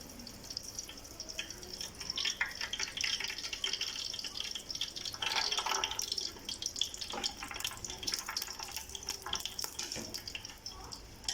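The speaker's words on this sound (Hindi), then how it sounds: "इसके अंदर मैं डाल रही हूँ सरसों का तेल लेकर" Mustard oil is poured into a cooking pot for a daal gosht handi, giving a faint, uneven liquid trickle and splash over steady kitchen background noise.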